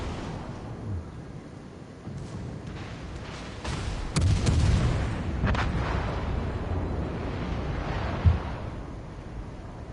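Naval gunfire and torpedo impacts in a battleship video game, with a Japanese ship taking torpedo hits: dull booms and bursts over a constant rumbling bed, louder from midway, with a sharp thud near the end.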